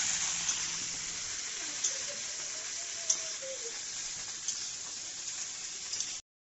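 Okra frying with nigella seeds in a pan, a quiet steady sizzle with occasional small pops, close and continuous for several seconds before cutting off.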